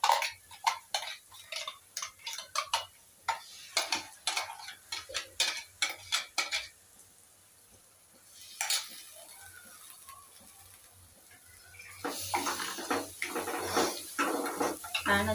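Ground masala paste being stirred into fried onion and tomato for matar paneer in a pan, with bursts of quick clinking and scraping of a spoon against metal, a quiet pause midway, then steady stirring resuming; no voices.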